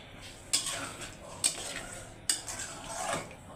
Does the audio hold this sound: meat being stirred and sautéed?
yes